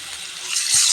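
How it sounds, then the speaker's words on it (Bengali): Water pours into a cooking pot of ginger, garlic and spice paste for a gourd and chickpea dal, a steady broadband rush that swells louder toward the end, heard alone without talk. "পানি দিয়ে দিচ্ছি"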